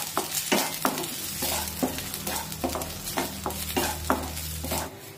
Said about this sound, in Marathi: मंद आचेवर हे तांदूळ हलक्या तांबूस रंगावर भाजून घेऊया।